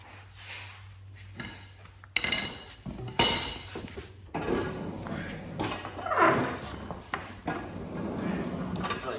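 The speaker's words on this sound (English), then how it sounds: "And we should just be able to slide this mower deck out." Husqvarna YTH24V54 riding mower deck being slid out from under the tractor, a series of close scraping, rubbing and clunking metal-and-wood sounds in bursts, with a low steady hum beneath.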